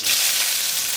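Cumin seeds and a little ginger sizzling in hot oil, a close, bright, continuous crackle and hiss that stays steady from start to finish with no talking.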